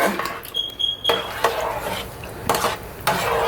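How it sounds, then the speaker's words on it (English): A spoon stirs a pot of food with basil cubes, giving a few scraping knocks against the metal over a soft background bubble, close by. "And I'm gonna give this a good old stir."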